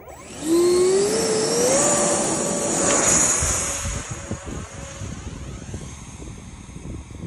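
A 3D-printed Viggen RC jet with a 64mm electric ducted fan flies past, its high whine rising in pitch and loud at first, then fading into distant wind and background noise.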